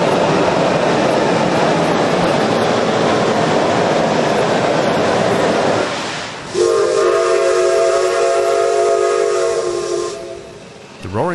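A Shay steam locomotive on the Roaring Camp and Big Trees narrow gauge railroad in the redwoods hisses loudly with steam, then sounds a long, steady whistle for several seconds before it fades.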